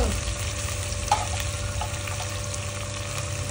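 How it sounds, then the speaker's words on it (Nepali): Local fish frying in a pan produces a steady close sizzle with a low bubbling rumble, one brief sharper clink near the start and no voices. "आज चाहिँ मैले यसरी फ्राई गर्न गएको छु"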